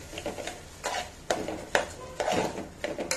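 A utensil stirs rice, green peas and masala frying in ghee in a pan, giving a string of close, irregular scrapes and clinks against the metal, about eight strokes in quick succession with no talking.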